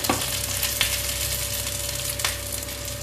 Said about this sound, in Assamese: ধুনীয়াকৈ নৰসিংহ পাতখিনি অলপ ভজা গ'লে